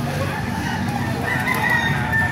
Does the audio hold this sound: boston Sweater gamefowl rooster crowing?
yes